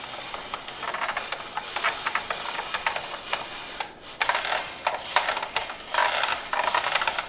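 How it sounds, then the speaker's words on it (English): A spiralizer cuts fresh zucchini into noodles with a steady run of dry scraping and crunching strokes, close and moderately loud, pausing briefly midway before the cranking resumes. "we're going to go ahead and spiralize our own zucchini"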